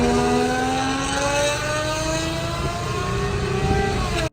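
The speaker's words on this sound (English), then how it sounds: "I don't think I've heard a Zonda go full tilt in a very long time." A Pagani Zonda engine howls at full throttle, a loud, continuous high-pitched wail with rising and falling pitch as it pulls through the revs, close by and unbroken until it cuts off abruptly at the end.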